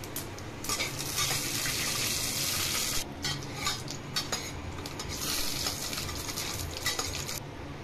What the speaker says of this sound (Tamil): இப்போ எண்ணெய் சூடானதுக்கப்புறமா கொஞ்சமாக கடுகு போட்டுக்கோங்க.